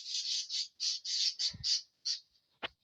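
Several pet birds let out of their cage squawk in a run of loud, harsh, close calls, about ten bursts over a few seconds with short gaps between them.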